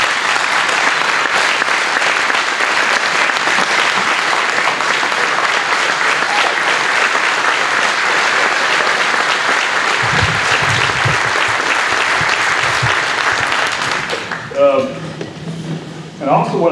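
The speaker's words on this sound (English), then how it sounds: "I want him to have applause" Sustained, dense applause from a large crowd fills the room for many seconds, then fades as a voice begins speaking.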